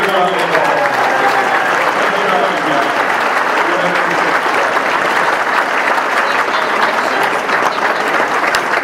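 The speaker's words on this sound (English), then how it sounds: "Give a good round of applause." Loud, sustained applause from a crowd at a high school senior awards ceremony, thick continuous clapping that fills the whole stretch, with voices mixed in underneath.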